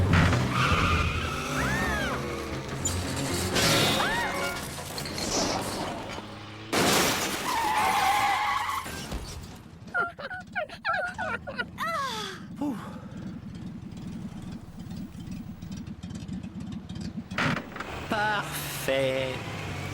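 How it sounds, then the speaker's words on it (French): Cartoon car pulling out of a supermarket parking space, with an engine surge and a tire screech amid animated voices and squawks, followed by a rattly motor running on under lighter sound effects. "Oh, regarde, il y a une voiture qui s'en va."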